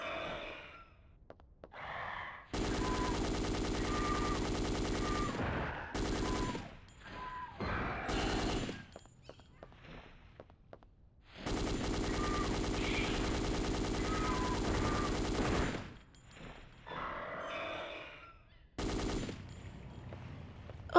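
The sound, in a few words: heavy machine gun firing in video game Dino Crisis 2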